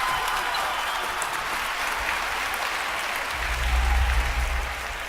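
A crowd applauds at a table tennis match in the London 2012 video game: steady, dense clapping throughout, with a low rumble swelling near the end.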